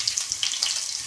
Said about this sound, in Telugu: అలాగే జీలకర్ర కొంచెం, ఎర్రగడ్డలు,